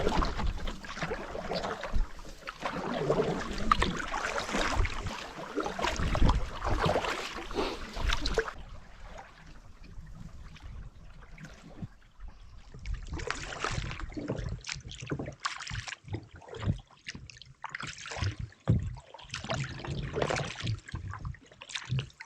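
A canoe is paddled leisurely across calm lake water on a Killarney trip, with soft close paddle splashes and drips in an irregular rhythm, some louder water movement early on.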